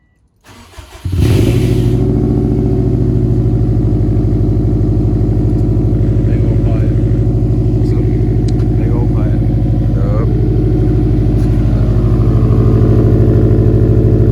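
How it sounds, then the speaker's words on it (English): A 2004 Subaru STI with a Tomei Ti Extreme exhaust cranks and catches on a cold start, then settles into a loud, steady low rumble of idling that continues throughout. "we're about to get a cold start."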